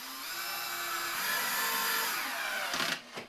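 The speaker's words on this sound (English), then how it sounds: "And then I'm going to take my little drill and my itty bitty screws." A small drill drives tiny screws into wall buddies while framing, giving a steady close-up whirring whine that ends in a couple of short bursts.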